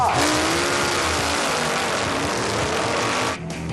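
Custom-built motorcycles race flat out at about 140 mph in a head-to-head heat, a loud continuous engine roar with rising whine that carries steadily before dropping off near the end.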